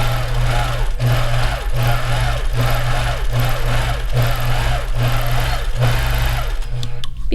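A home sewing machine with 60 weight thread stitches deep U-shaped quilting lines around a spider web stencil border, a steady close motor hum with rhythmic pulsing bursts about every half second.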